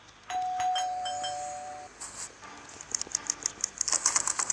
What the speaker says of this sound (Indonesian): Dengan menekan lonceng. lonceng rumah.